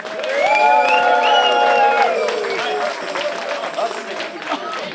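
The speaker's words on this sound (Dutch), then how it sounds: "Een waanzinnig, maar ook echt een waanzinnig applaus voor Gert Mulder en Dirk Laning." A crowd applauds and cheers for Gert Mulder and Dirk Laning at a Glazenhuisje radio event, the clapping and shouts mixed under a loud voice talking over it at the start, then settling into a steady, softer applause.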